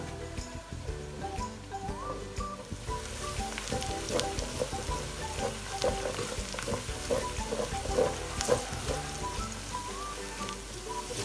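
Onions fry in a pan of hot oil for chicken tikka biryani, a dense close sizzle with constant crackle and sputter, steady throughout with light stirring scrapes.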